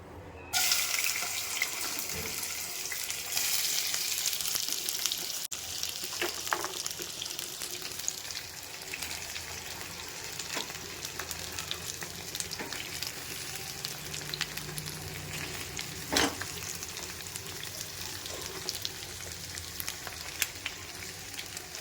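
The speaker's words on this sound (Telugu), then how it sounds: "ముందుగా మనం కట్ చేసి ఉంచుకున్న దొండకాయల్ని ఈ ఆయిల్లో వేద్దామండి" Chopped tindora (ivy gourd) fries in oil, starting with a loud burst of sizzle that settles into a softer, steady hiss with occasional clicks of the spoon and pan.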